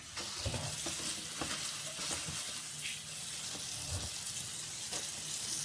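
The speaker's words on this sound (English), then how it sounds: "So we're just going to rinse up our dried taro leaves quickly." Dried taro leaves are rinsed under running water at a sink, a steady rushing stream with scattered clinks and knocks of handling, moderately close and with no talk.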